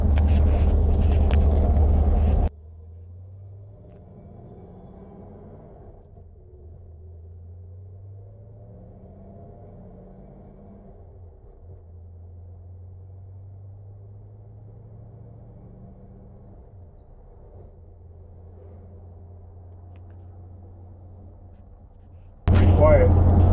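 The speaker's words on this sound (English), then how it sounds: "It's a nice engine. It sounds powerful, but it's not overwhelmingly loud, you know?" Original engine of a 1970 Plymouth Superbird idling, a low, quiet, steady rumble with faint pulsing, framed by brief louder bursts at the start and end.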